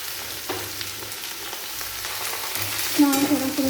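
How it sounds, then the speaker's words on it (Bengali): Potato, carrot and bean pieces fry in hot oil, giving a steady close sizzle while a utensil stirs them around the pan, with a few scraping knocks and no voices. "নাড়াচাড়া করে নেব তেলের মধ্যে।"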